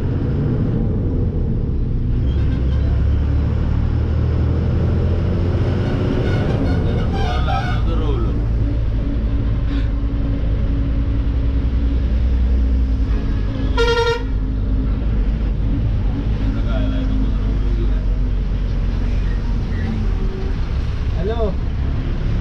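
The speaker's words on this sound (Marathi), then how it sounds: "समोरून पण गाड्या पास होत आहेत आणि इथून पण गाड्या पास होत आहेत" Vehicles moving along a mountain ghat road on a bus trip from Mumbai to Ganpatipule, with a steady low traffic rumble and repeated horn toots, one of them sharp and loud near the middle, while people talk faintly in the background.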